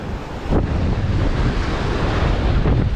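Wind blowing at a waterside fishing spot, a loud steady roar of gusts buffeting the microphone, mixed with the wash of water, with no talking.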